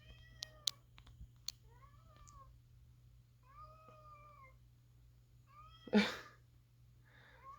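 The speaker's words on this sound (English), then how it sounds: "There's a cat." A cat meows several times, plaintive and drawn out, close by over a steady low hum, with a sharp burst of noise partway through.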